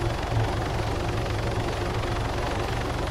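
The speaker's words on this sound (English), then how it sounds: "I have a helicopter landed right here as well" A helicopter in the video game Arma 3 thrums steadily nearby, a loud, dense rotor and engine drone holding even throughout with no break and no voices over it.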